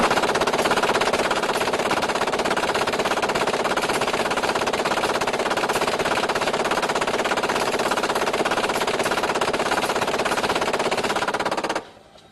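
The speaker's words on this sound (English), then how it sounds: "The gunner will fire 10 seconds or 130 rounds." An M240 machine gun fires continuously for about ten seconds, roughly 130 rounds in a dense, loud, unbroken stream that stops abruptly near the end, with no talking over it.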